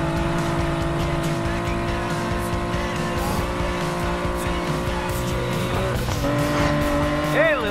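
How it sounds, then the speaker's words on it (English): Race car engines rev and whine loudly in the Need for Speed Payback video game, with sustained engine tones shifting pitch and rising squeals near the end. "Better hurry, engines are revving."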